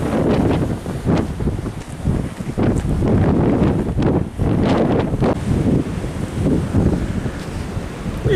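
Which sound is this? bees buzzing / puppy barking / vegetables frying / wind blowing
wind blowing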